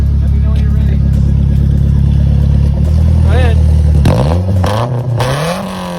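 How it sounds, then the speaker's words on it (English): A Nissan 240SX heard from the exhaust at the back, loud and close, droning at a steady idle-like pitch before a sharp rev sweeps up and falls away, with brief voices near the end. "Just show him the exhaust, show him the back."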